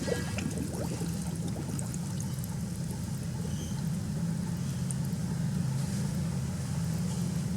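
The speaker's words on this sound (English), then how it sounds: "While water entering bottles, a lot of air bubbles run out to the water surface" Empty bottles sink into water as air bubbles escape, giving a continuous close gurgling and churning wash that stays steady and fairly loud throughout, with no voices.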